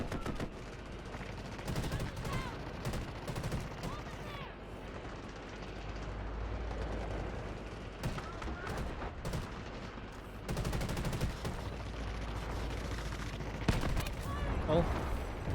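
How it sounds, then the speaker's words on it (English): Tank-mounted Gatling gun in the video game Delta Force firing in long, dense continuous bursts, loud and rattling, with other gunfire and explosions around it and a voice talking over the action. "The gun on the tank, the Gatling gun, doesn't do a lot of damage."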